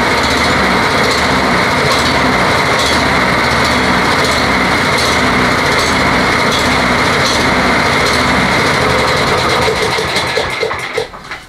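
A Toro 20778 lawn mower's small petrol engine idles steadily and loudly, a continuous close buzzing drone that runs unbroken for about ten seconds and then starts to fade out at the very end.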